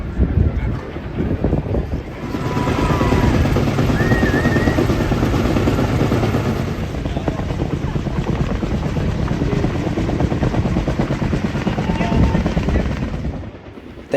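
A helicopter at the Las Vegas Motor Speedway drag strip, used to unveil a 2023 Dodge Challenger SRT Demon 170, makes a loud, continuous rotor roar with buffeting wind noise that swells after a couple of seconds and holds steady before easing off.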